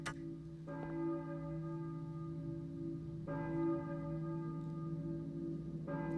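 Church bell tolling in the 1999 video game Silent Hill: three deep, resonant strikes spaced a few seconds apart, each ringing out in a long sustained hum, with no one talking.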